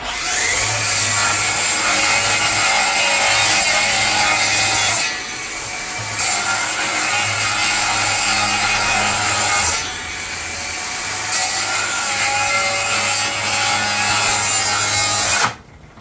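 A Flex 24V rear handle circular saw cuts through wood in long, loud rasping passes, with two brief pauses between cuts and the blade winding down at the end.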